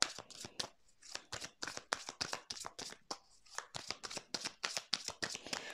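Tarot cards being handled and laid out on a table, a rapid close series of crisp card slaps and shuffling flicks in irregular bursts, fairly quiet, with no talk.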